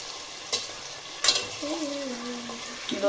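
Onion and curry leaves frying in a pan, with a steady low sizzle, a couple of sharp stirring scrapes and a faint tonal squeak, no talk.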